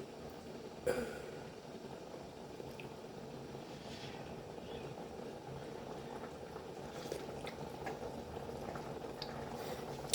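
Fideuà broth boils steadily in a pot, a constant soft bubbling simmer heard close and quiet, with a single brief clink near the start and no talk.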